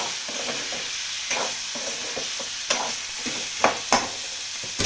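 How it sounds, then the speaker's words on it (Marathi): Potato pieces fry and sizzle steadily in a pan for a spiced Maharashtrian potato-and-brinjal curry, while a spoon stirs them in repeated scraping strokes and sharp knocks against the metal. No one speaks. "बटाटा आता चांगला परतला."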